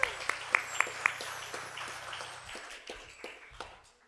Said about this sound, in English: we'd like to welcome all new visitors with a hearty round of applause